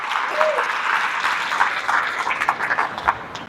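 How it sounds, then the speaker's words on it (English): Keynote audience at an Idaho Education Association event breaks into lively applause, dense clapping with a few louder bursts and faint voices mixed in. "Let's give them a round of applause."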